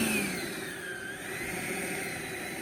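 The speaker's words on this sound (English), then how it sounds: "That's the 5280 afterburner." E-flite Viper 90mm EDF RC jet with a 5280RC afterburner flies past, its ducted fan producing a steady whining roar with a gliding pitch shift, moderately distant outdoors.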